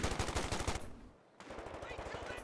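Rapid automatic fire from a BAR and a Thompson in a World War II video game, two bursts of fast repeating shots separated by a brief pause, loud and close.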